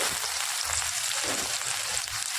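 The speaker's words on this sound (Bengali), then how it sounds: "তেলের ভেতরে ফোড়নের জন্য দিয়ে দিচ্ছি গোটা জিরে।" Whole cumin seeds, panch phoron and grated ginger crackle in hot oil as a tempering for a rice-flour and potato snack, a dense, steady sizzle held close and loud with no pauses.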